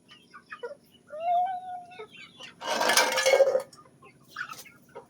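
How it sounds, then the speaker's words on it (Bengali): A chicken clucks in short bursts with a drawn-out call, close by, and a loud noisy rustle or flutter in the middle, with no talk over it. "ওই দেখো মুরগি"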